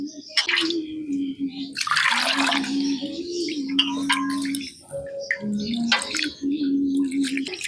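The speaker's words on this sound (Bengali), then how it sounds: "চালটাকে আমি একবার ভালো করে ঘষে ঘষে ধুয়ে নিয়েছি। এবার জলটা ফেলে দেই, আবারও জল দিয়ে ধুয়ে নেব।" Rice gets rubbed and rinsed by hand in water in a kitchen: close sloshing, swishing and splashing come in uneven bursts with some dripping, with no voices.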